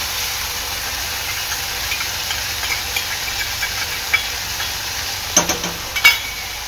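Red chili, soy and green chili sauces being stirred together in a pan, a steady soft hiss with light scraping, then a few sharper clinks of the utensil near the end.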